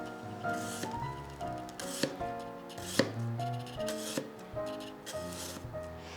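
A knife chops through vegetables held between chopsticks on a cutting board, a series of crisp, irregular thuds and taps, close and moderately loud, with no speech.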